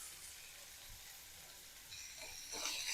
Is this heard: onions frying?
yes